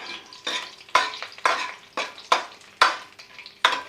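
Almonds and cashews stirred and roasting in desi ghee in a pan: a regular series of about seven scraping, sizzling strokes, each a sharp onset fading quickly, close and clear with no talk.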